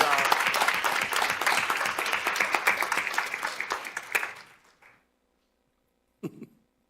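Applause from a seated audience at a school district board meeting, dense and steady for about four seconds before tapering off, with a short burst of clapping or a cough afterward.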